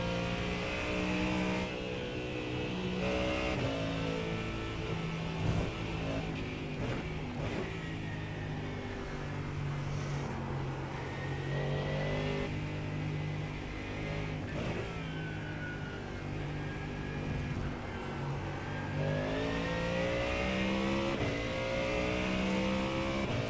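A race car engine in the iRacing sim game drones loudly and steadily for the whole stretch, its pitch rising and falling through gear changes and corners, with no talk over it.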